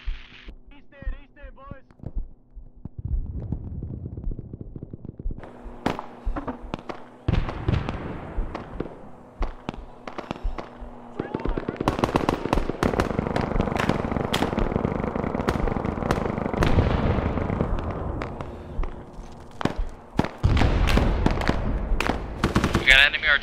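Video game battle with incoming artillery on old enemy positions, a string of sharp booming blasts and rattling gunfire that builds into dense overlapping fire, with an occasional voice mixed in.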